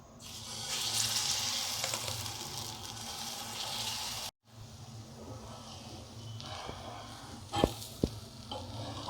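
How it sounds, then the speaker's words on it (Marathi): Moong dosa batter cooking on a seasoned iron tava gives a steady, close sizzle and hiss, broken by a brief silent cut midway, then resuming with a few sharp clinks and scrapes near the end. "झाकण ठेवून दोन्ही बाजूंनी डोसा शिजवून घ्यायचा।"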